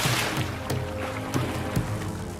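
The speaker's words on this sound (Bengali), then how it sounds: "আমার নৌকাটা যে দুখণ্ড হয়ে ভেঙে জলের মধ্যে তলিয়ে গেল" Cartoon wooden boat cracking in two and sinking into water: sloshing, splashing water with several sharp cracking bursts spread across the clip, moderately loud and continuous, with no talk.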